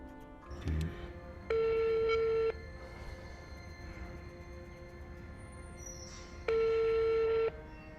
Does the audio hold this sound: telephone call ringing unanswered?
yes